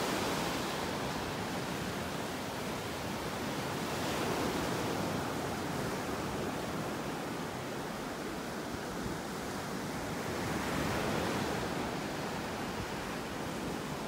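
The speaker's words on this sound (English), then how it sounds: "But for us, these are some pretty big waves." Big waves breaking on a Gulf of Mexico beach in North Naples, Florida, a continuous broad roar of surf with slow swells in loudness, steady and enveloping, no voices.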